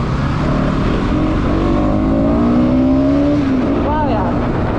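A Bajaj Pulsar NS200 motorcycle engine is revved with the throttle, its loud buzzing tone climbing steadily in pitch, then dropping and briefly rising again. A voice talks over it.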